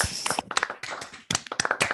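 Audience clapping after an academic talk, a short burst of uneven hand claps from a small group, fairly close and not very loud.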